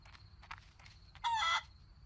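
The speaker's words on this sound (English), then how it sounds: "Yeah, so I finally figured out that this is called a rooster." A rooster crows once in the farm-restoration video game BarnFinders, a loud sustained call standing out over soft ambient game sounds and faint footsteps.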